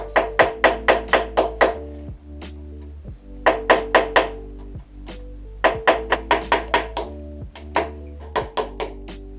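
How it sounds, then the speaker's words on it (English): A stuck part on a 70cc Beta RR stunt moped is struck with rapid bursts of metallic hammer blows, five to seven quick hits per burst, with short pauses between bursts. "you make this thing stuck in there, and you hammer it, and you push it around"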